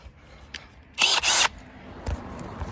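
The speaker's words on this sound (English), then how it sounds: "that's my Milwaukee drill" A Milwaukee PFD2 hammer drill fitted with an auger drilling into soil gives two short, loud, harsh whirring bursts close by, separated by a tiny pause, amid low outdoor background noise and a few faint knocks.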